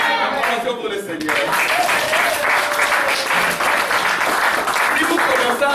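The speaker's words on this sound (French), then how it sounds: "Acclamation pour le Seigneur." A church congregation applauding, sustained loud clapping that fills the room and continues without a break, with voices calling out over it.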